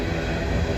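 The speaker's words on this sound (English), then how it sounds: "This is an empty coal train that's coming back from the power plant over in Georgetown" An empty coal train led by a BNSF locomotive passes close by, a loud, steady rumble and roar with no distinct breaks.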